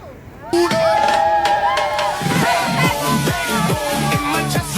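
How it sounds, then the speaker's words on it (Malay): A lively crowd cheers and shouts continuously at a marching drill competition, with voices overlapping and rhythmic chanting in the background. "Sorakan sikit, sorak sikit."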